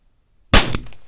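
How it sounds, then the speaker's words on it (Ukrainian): A Weihrauch HW4 air revolver with a 2.5-inch barrel fires a single sharp, close shot after near silence, a crisp crack followed by a brief metallic ring that decays quickly. "Сьомий постріл"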